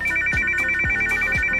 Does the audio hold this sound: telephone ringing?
yes